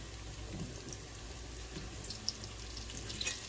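Vegetables for corn chowder sauté in a pot, giving a faint, steady sizzle with a few soft pops and clicks of stirring. No one speaks.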